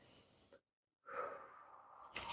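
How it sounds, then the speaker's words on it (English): Deep breathing during a kids' yoga session: a long, soft breath, a pause of silence, then a fuller, louder breath close to the mic, ending in a brief rush of air. "You can take deep breaths."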